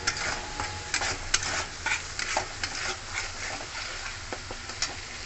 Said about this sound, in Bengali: এবার মশলাটাকে ভালোভাবে কষিয়ে নেবো।